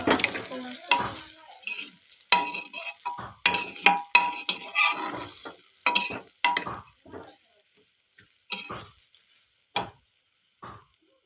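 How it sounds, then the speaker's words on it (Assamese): Food sizzles and is stirred in a pan after salt and sugar are added, for a dish of duck with ash gourd, with repeated scraping strokes and bursts of frying that grow sparser toward the end, close and alone. "এতিয়া আমি অলপ সময় এনেদৰে ভাজিম।"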